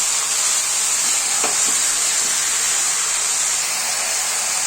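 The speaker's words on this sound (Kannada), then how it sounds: "ಬದನೆಕಾಯಿ ಹಾಕೋತಾ ಇದ್ದೀನಿ ಸ್ವಲ್ಪ ಬಾಡಿಸ್ಕೊಳ್ಳಿ ಎಣ್ಣೆ ಫ್ರೈ ಆಗುತ್ತೆ ಚೆನ್ನಾಗಿ" Brinjal frying in oil in a pan, giving a steady broad sizzling hiss throughout, close and fairly loud, with a couple of faint clicks and no talking.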